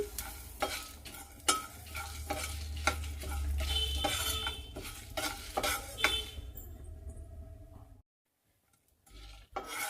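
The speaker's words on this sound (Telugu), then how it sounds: "మీడియంలో పెట్టి వేయించుకుందాం" Spices fry in a pan over medium heat with a rhythmic scrape of stirring over a steady sizzle for about eight seconds, then it drops to near silence before a brief return at the end.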